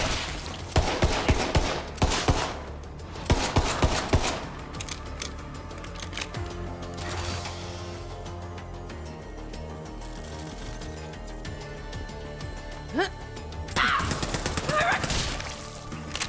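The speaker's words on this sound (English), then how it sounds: "I like this SMG." SMG fire in the shooter game Borderlands 3: rapid bursts of automatic gunfire at the start and again near the end, with quieter mechanical game sounds between, loud and close.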